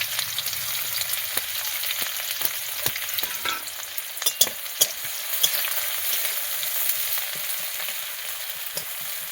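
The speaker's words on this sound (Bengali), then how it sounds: "তেল গরম হয়ে গিয়েছে, এর মধ্যে পেঁয়াজ দিয়ে দেবো।" Onions fry in hot white oil in a wok, giving a loud, continuous sizzle with scattered sharp crackles and pops throughout.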